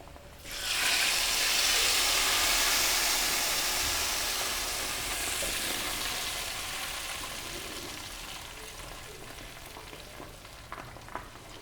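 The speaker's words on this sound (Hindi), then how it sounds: "अब हम इसको हलीम पर तड़का लगा लेंगे" A loud, bright sizzle bursts out as hot cumin tempering is poured onto haleem, then hisses and crackles steadily, slowly easing off over several seconds.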